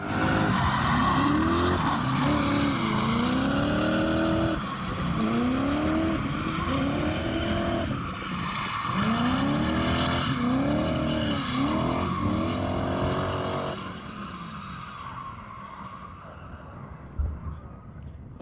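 A drift car, a 265-powered build, slides around a track with continuous loud tire squeal and skidding, the engine rising and falling in repeated revving sweeps before the noise fades near the end.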